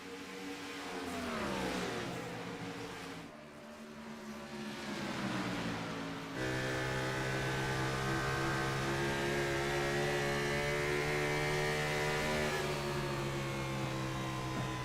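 iRacing Grand National Series stock car engine droning loudly from onboard, its pitch sagging as the driver lifts off the throttle, then settling into a steady high whine.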